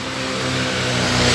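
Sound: trucks driving past near a fire station

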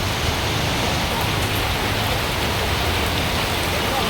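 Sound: heavy rain falling outside

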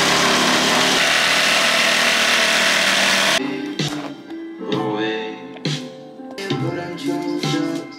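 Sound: jigsaw making a straight cut along a guide

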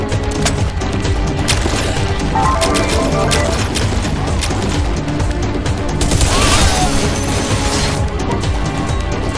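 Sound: video game gunfire and explosions

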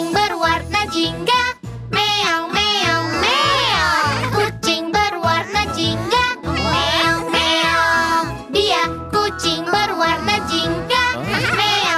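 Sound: orange cat meowing in children's song

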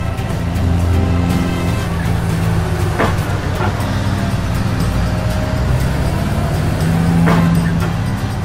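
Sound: truck driving up in a gravel pit

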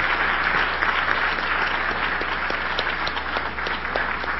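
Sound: audience applause at a lecture

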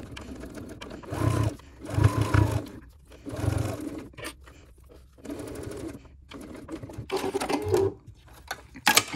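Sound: sewing machine stitching a crossbody bag

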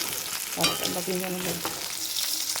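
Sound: frying fish and okra (bhindi) in a pan

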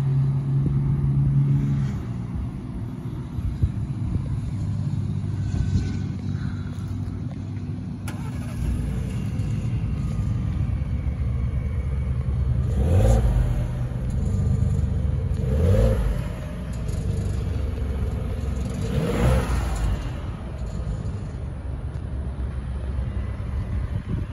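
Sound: 2.7 liter turbo engine cold start

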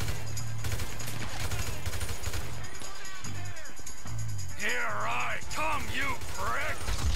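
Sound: gunfire from enemies in video game Grand Theft Auto V

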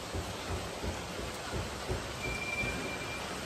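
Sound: rain falling on a flooded street

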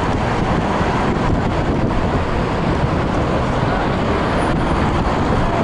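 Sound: city traffic in Portland, Oregon

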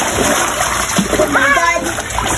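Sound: toy splashing in water

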